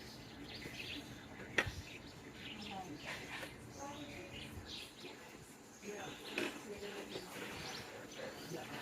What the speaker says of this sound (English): Lots of birdie chirping.